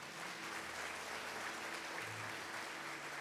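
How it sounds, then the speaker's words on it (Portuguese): A church congregation applauds in a dense, even burst of clapping that fills a large room, sustained at steady loudness throughout. "Você pode aplaudir Jesus?"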